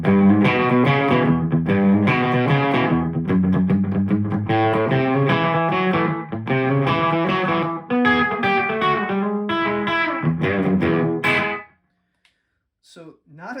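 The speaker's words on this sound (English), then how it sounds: "this is like an old school country slapback delay at about 110 milliseconds" An electric guitar plays a lively twangy riff with an old-school country slapback delay of about 110 milliseconds from a TC Electronic Hall of Fame 2 Mini reverb pedal doubling each note, then stops abruptly and a few soft noises follow.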